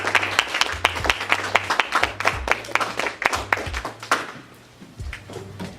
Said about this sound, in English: Give a round of applause for my man, Coach Mark.